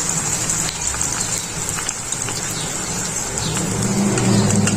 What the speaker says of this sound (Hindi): स्लाइसेस हमारे फ्राई हो रहे हैं